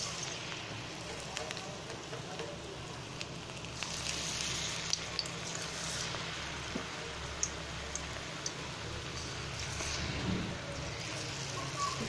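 Bonda batter frying in hot oil, a soft, steady bubbling sizzle with occasional sharper pops, fairly quiet and close, with a voice talking over it.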